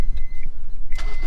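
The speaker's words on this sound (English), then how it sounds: "Now you twist the key, put the clutch in and hit the start button." A 2000 Honda S2000 with a Tanabe exhaust starts up via key and start button, a brief close cranking burst followed by the engine catching with a loud low rumble.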